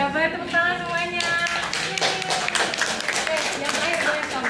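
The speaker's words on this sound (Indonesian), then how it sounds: "Boleh tepuk tangan semuanya." Classroom applause during a microteaching lesson, a burst of hand claps from students that carries under a speaking voice and overlapping tonal sounds at the start.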